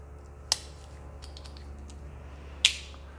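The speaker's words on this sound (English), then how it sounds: "we've got very, very nicely functioning scissors, beautiful snap" A pair of restored Victorinox Salesman pocketknife scissors, made in the early 1980s, snaps shut twice with crisp metallic clicks about two seconds apart, close and sharp over a faint steady hum.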